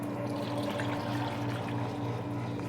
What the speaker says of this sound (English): I like to filter my water